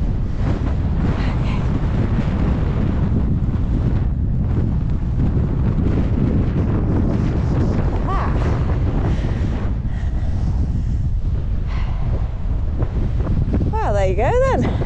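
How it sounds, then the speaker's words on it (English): Cold wind buffets the microphone on the summit of High Rigg in the Lake District, a loud, constant roar with gusty rumble that carries on unbroken throughout. "it's definitely a cold wind"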